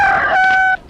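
A rooster lets out a loud, close, brief crow that cuts off sharply.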